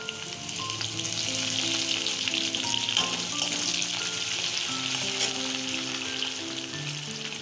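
Onion fries in hot oil with five-spice seeds, dried chilli and bay leaf, giving a steady, close, continuous sizzle with faint stirring and soft musical tones in the background, no voices.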